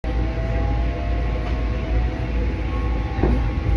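A commuter train rumbles continuously around a passenger with a loud, steady low roar and faint rattling, and no voices.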